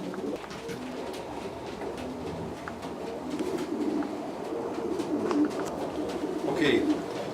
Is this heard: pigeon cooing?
yes